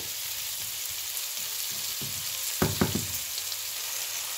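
Mushrooms and capsicum frying in a pan, a steady soft sizzle with a few sharp knocks of a spoon or spatula stirring near the middle, no talk over it.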